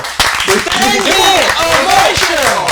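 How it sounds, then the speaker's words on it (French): A group applauds the winner of an eating challenge, clapping mixed with loud, excited shouting voices that nearly drown out the claps. "Applaudissez-le les gars, oh, il mérite, oh."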